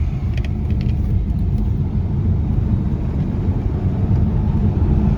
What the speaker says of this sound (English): I'm making some noise on the tires because I have brand new tires